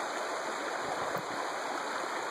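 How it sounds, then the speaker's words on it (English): Creek flowing past a wilderness camp kitchen at a mining camp, a steady, full rushing of water close by with no voices. "the whole kitchen area is set nicely on the creek right here in front of us"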